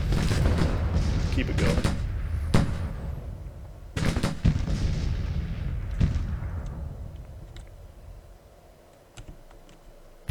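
Musket volleys and booming artillery from the Civil War strategy game Grand Tactician, as a brigade fires on breastworks: dense crackling bursts and heavy thuds that thin out toward the end, with someone talking over them.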